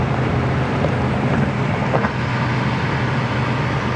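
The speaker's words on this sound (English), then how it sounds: "We'll roll our side windows up just to help with the wind noise on camera." Steady roaring wind and road rumble inside a 1993 Trans Am cruising at about 65 mph on the highway with the side windows up, a loud, unbroken broadband whoosh and no talking.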